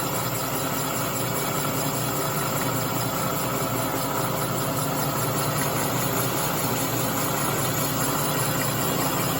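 Boring bar taking a light cut inside a Honda 200M engine cylinder, a steady, continuous machining drone with a constant mechanical hum that holds evenly throughout, with no voices.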